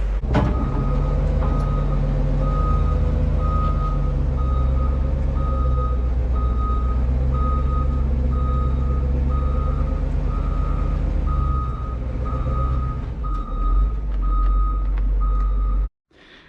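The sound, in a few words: truck reversing beeps while being backed up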